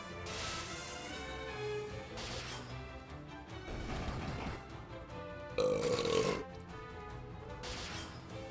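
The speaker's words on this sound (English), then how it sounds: "it was a fine burp" A loud burp erupts during Final Fantasy II gameplay, standing out sharply over continuous game music and effects for about a second.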